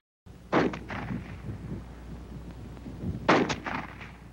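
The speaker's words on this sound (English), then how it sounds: "the M2 fires semi-automatically, like the M1" Two sharp, loud shots from an M2 carbine in semi-automatic fire, about three seconds apart, each one followed by a brief decaying echo.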